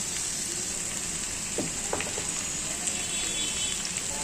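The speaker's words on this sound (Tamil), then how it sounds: "எல்லாத்துலேயும் எண்ணெய் படுற மாதிரி நல்லா வதக்கி விட்டுக்கோங்க" Raw mango pieces for pickle sauté in oil, a continuous close sizzle with a few soft stirring clicks and no talk.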